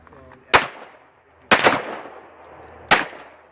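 Three sharp, loud gunshots fired at a shooting range, spaced about a second apart, each with a quick decaying echo and quiet pauses between.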